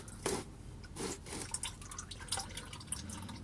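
Engine oil drips from a loosened oil filter on a 2004-2009 Dodge Durango, making a few soft, scattered taps and splats against a steady low background hum.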